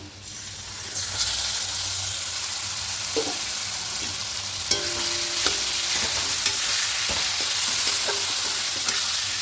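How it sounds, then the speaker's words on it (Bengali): Marinated chicken in a yogurt masala hits a hot pan and sizzles steadily, with spoon scrapes and stirring knocks sounding close over the continuous frying hiss. "এবার ম্যারিনেট করা চিকেনটা এখানে দিয়ে দেবো"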